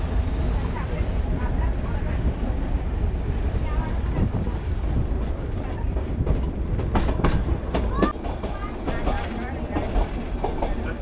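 The Ooty toy train on the Nilgiri mountain railway rolls along with continuous rumbling, rattling carriages and clacking wheels, with occasional squeals, heard from onboard. Voices talk over the noise at times.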